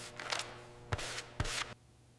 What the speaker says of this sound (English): Hand sanding provides the smooth finish required for elite-level aerodynamics